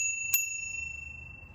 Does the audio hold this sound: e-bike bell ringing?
yes